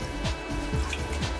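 Soft water sloshing and dripping as raw catfish is kneaded by hand in a bowl of cold water, with a few gentle swishes repeating about every half second, close and quiet.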